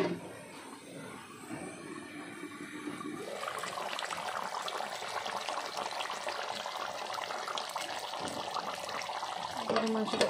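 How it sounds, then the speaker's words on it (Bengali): Meat cooking in a pot as the liquid comes to a boil, a rising bubbling, sizzling wash that grows steadily louder under faint talk. "এই যে বলক আসতেছে।"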